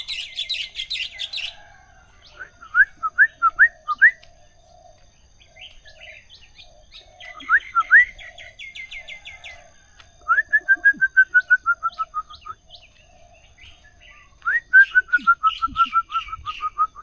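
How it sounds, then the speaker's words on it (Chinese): Many small birds sing on a morning in Chiang Mai, Thailand, with repeated rhythmic chirp series, whistled trills and a soft background call, fairly close and clear, no talking. "好多小鸟"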